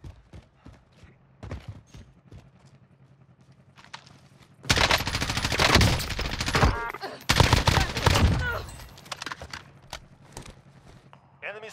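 Gunfire rings out in a shooter video game, with a few scattered shots early, then two loud sustained bursts of rapid fire, while voices talk intermittently.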